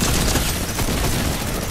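Rapid gunfire in the video game Fortnite during a ranked trios match, a dense, loud, continuous burst of shots filling the whole moment with no pauses.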